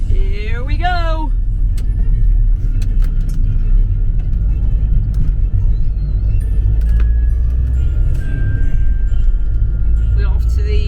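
Loud, steady rumble of a car driving along a road toward a hotel car park near Alton Towers, heard from inside the cabin, with a few brief voices and small cabin noises over the engine and road noise.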